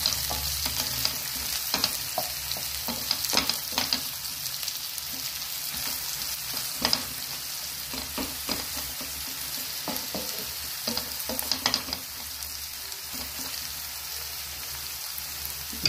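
Chopped onions frying in hot oil for a tadka (tempering) in a pan, a steady sizzle broken by scraping stirs at close range, with no voices.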